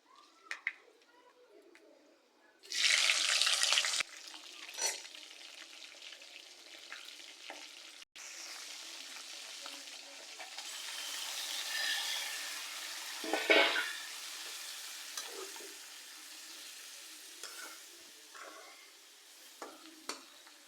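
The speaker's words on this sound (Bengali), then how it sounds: "আমার তেলটা কিন্তু গরম হয়ে গেছে এর মধ্যে আমি দিয়ে দিব মেথি অল্প পরিমাণ মেথি" Fenugreek seeds dropped into hot oil for a bottle gourd and fish head curry, giving a burst of loud sizzling followed by a steady softer frying hiss, with birds cooing faintly in the background.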